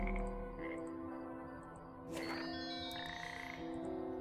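A frog croaking in a Sierra-style adventure video game, heard as sustained, buzzy tonal croaks over a steady game background, moderately faint, with a brief noisy burst partway through and no talk.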